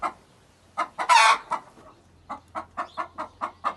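Backyard flock of twenty to twenty-five chickens near an automatic feeder, close clucking in short rhythmic bursts with one louder squawk near the start and no talking.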